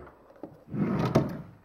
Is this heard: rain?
no